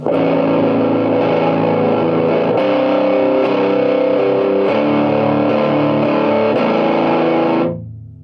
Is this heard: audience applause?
no